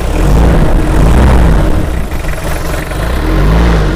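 A nearby SUV engine revs loudly, dips briefly, then climbs again, a heavy roaring rise and fall with no talking.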